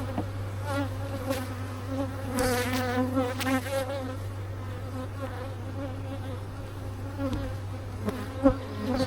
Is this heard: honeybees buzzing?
yes